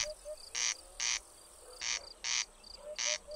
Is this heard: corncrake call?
yes